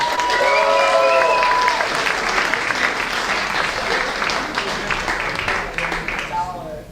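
Comedy club audience applauding a comedian, a loud steady wash of clapping and cheers that fades out, with a voice talking over it.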